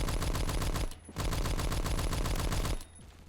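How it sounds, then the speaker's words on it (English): Sustained bursts of MG3 machine gun fire in the Roblox game Phantom Forces, loud rapid automatic rounds in two long strings separated by a brief pause, with no talking. "I'm getting suppressed from the MG3 from back here"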